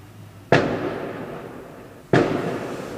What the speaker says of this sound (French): Il y a des putains de feux d'artifice.